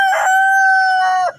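A video game chicken lets out one long, loud, tonal crow with a short cluck at the start and again at the end, heard alone and up close.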